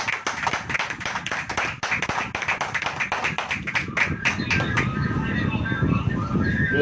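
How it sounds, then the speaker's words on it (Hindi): A church congregation claps in rapid, uneven bursts for several seconds, then the applause fades into a murmuring room with soft background noise. "एक बार हम जोरदार अपनी उपस्थिति का प्रमाण दें तालियों के साथ"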